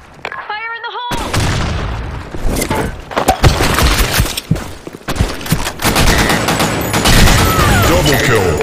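Counter-Strike match on the Office map with a grenade blast and bursts of gunfire, loud and close, clustered shots and booms following a short in-game voice shout at the start.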